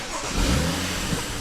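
A BMW M135i engine turning over and running after an oil change, a loud, steady mid-pitched engine hum heard up close without talk.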